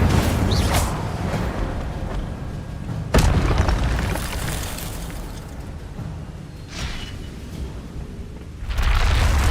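An Incendio fire spell cast in Hogwarts Legacy, with loud booming blasts that roar and fade away, several in a row and separated by short gaps.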